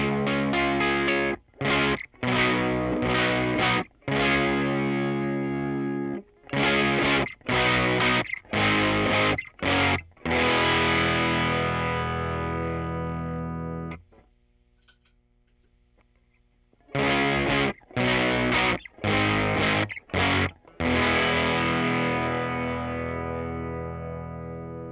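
Guitar through an MXR Hybrid Fuzz pedal with the guitar's volume knob rolled back, giving a cleaned-up, lightly distorted tone: loud strummed chords in bursts with short gaps and a brief quiet pause midway, no talking.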